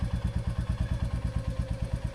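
A motorcycle pulling away slowly as the clutch is let out, its engine throbbing in a steady, even chain of low thumping pulses, close by and with no talk.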